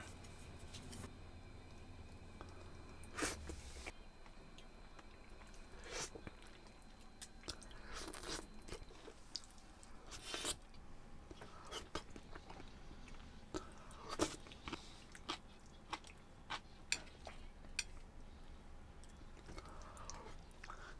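Close, quiet chewing and crunching of braised Japanese-style fish scraps with bones, irregular bites and crunches spread across the clip.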